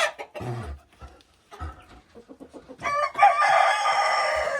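A few scattered chicken clucks, then a rooster lets out one loud, drawn-out crow close by that fills the rest of the clip.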